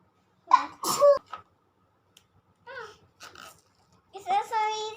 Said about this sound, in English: But I'm gonna sneeze.